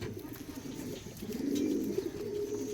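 Andhra pigeon cooing softly up close, a low throaty coo swelling midway over faint background noise.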